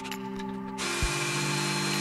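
A power drill drives a bolt through a top clamp piece into aluminium extrusion for a flight sim desk mount, a steady close whine after a short pause, with a brief thump as it seats.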